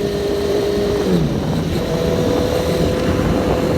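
A Honda CBR650F motorcycle pulls away from a red light in heavy city traffic, its engine tone rising steadily and then holding under constant loud wind rush.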